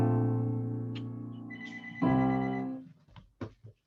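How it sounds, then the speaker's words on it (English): A house telephone rings loudly nearby, a steady electronic tone that shifts pitch partway through, then fades into a few faint clicks and brief noises. "Sorry about that little phone call."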